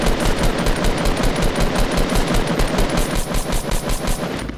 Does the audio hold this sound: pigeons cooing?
no